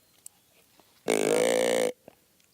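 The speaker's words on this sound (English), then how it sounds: "Burp." A single loud, sustained burp rumbles for nearly a second, a raspy tone standing alone against a quiet background with faint clicks around it.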